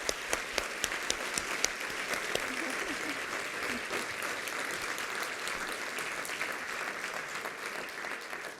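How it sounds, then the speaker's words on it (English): Audience applause at an award ceremony for young women finalists, a sustained, even wash of clapping from a large crowd lasting throughout, with a few sharper claps standing out near the start. "all of our finalists deserve a huge round of applause"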